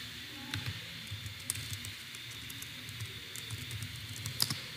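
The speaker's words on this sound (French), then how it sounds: "on tape la commande search et le nom de la vulnérabilité" Quiet keystrokes tap out a command on a computer keyboard during a Windows XP attack exercise from a Kali machine, an irregular run of soft clicks over a steady hum, with no talking.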